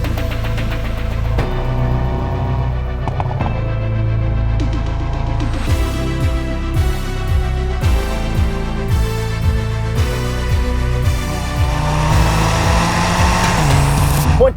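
A 2022 Hyundai Veloster N with a dual-clutch transmission and launch control accelerates hard. Its engine rises through the revs in repeated climbs, with clear gear shifts between them. It is loud and close, with no talking.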